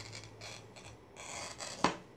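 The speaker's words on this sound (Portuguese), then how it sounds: "vamos cortar uma tira" Scissors snip a strip from a larger, wider sheet for a mosaic, making quiet rustling cuts with one sharper close snip near the end, heard alone without talk.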